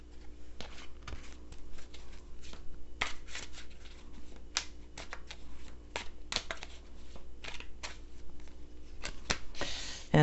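Tarot cards are shuffled by hand in quick, uneven flurries of crisp riffling snaps and soft slides, close and fairly loud, repeating over ten seconds without speech.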